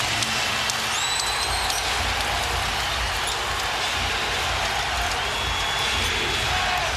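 Basketball arena crowd at an NBA Finals game, Pistons against Lakers, on its feet and cheering, a loud, steady roar of voices filling the whole stretch with a few whistles over the top.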